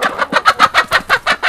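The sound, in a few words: black Australorp hen clucking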